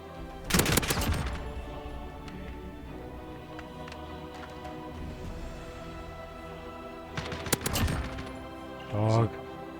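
Gunfire bursts in a Call of Duty: Modern Warfare 2v2 firefight, two sharp clusters of rapid loud shots separated by a quieter stretch, with a player talking over the game audio.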